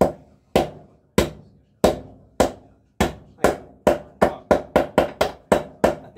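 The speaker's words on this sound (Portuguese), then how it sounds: "Vamos bater um pouco de cada lado." Hammer tapping the bearing mechanism of a Consul washing machine into place: about sixteen sharp, close knocks, spaced at first, then quickening into a tight, even rhythm.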